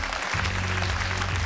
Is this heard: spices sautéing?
no